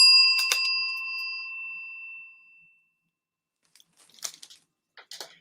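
A bicycle bell is struck once, sounding a bright, sustained metallic ring that slowly fades over about two seconds, followed by silence and a few faint handling clicks and rustles.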